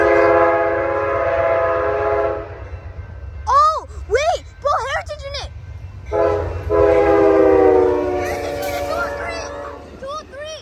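Amtrak's Southwest Chief No. 4, a passenger train heading from Los Angeles toward Fullerton station, passes close by at Rosecrans. It sounds a loud, sustained multi-note horn in several long and short blasts over a heavy rolling rumble.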